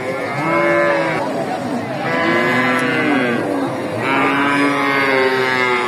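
Cattle kept for trade at a Bogura livestock market, the Dakumara animal haat, low repeatedly in long, drawn-out moos, three loud calls in succession close by over faint market bustle.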